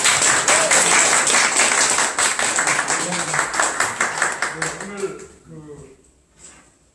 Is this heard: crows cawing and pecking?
no